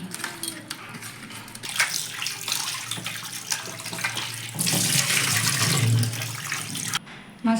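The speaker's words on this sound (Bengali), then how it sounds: "এবার ভালো করে জল দিয়ে ধুয়ে নেব" Tap water runs steadily into a sink while fish is washed, a continuous splashing rush with faint clatter, swelling louder near the end before cutting off.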